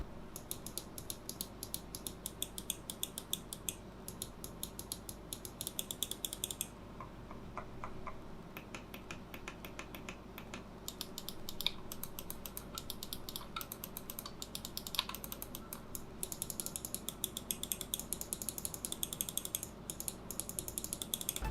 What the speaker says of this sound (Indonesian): suara klikinya juga enak, garing-garing gurih gitu ya